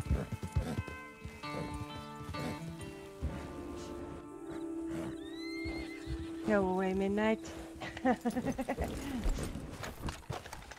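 A horse in the Red Dead Online video game whinnies loudly and close, with hoof clip-clop and someone talking before the neigh.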